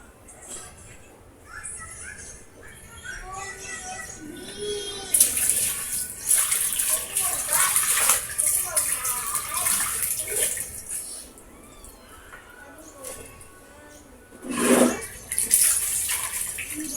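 Hand rinsing of laundry in a basin of water, splashing and sloshing in bursts with a few louder swishes, while someone talks and children are heard nearby.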